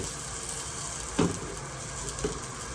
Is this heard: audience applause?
no